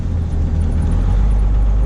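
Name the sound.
straight-piped 12 valve Cummins truck exhaust and turbo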